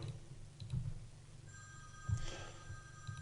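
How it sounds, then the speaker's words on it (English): A mobile phone rings during a Pauper Magic: The Gathering gauntlet match, its thin tonal ring steady and moderately faint behind low background hum, with a few soft clicks. "Sorry for not shutting off my phone"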